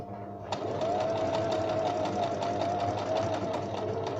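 A Brother BM 3700 sewing machine sews a decorative stitch, giving a steady, close, rapid mechanical chatter with a faint motor whine that starts after a brief quiet moment and runs without a break.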